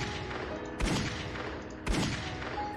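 Two heavy revolver shots from a guns addon in the Minecraft video game, each a sharp booming blast with a short rumbling tail, about a second apart.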